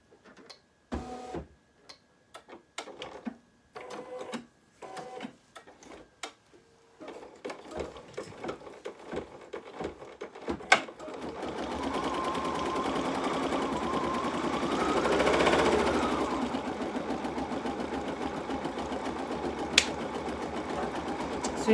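An embroidery sewing machine stitching a satin stitch, first with scattered ticks and clicks, then settling into a steady, dense mechanical whir that swells and continues near and loud.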